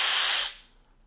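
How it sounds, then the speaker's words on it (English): Flex FX1451 mid-torque impact wrench giving a short, loud burst of motor whir that cuts off and fades within about half a second, heard alone and close up. "here it is, Flex's FX1451 mid-torque impact wrench"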